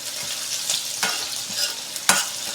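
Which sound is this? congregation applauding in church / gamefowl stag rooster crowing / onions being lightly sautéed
onions being lightly sautéed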